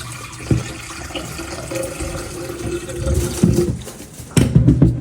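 Tap water pours steadily from a faucet into a container to make coffee, a loud close gushing stream that rises and shifts as it fills, ending with a sharper splash.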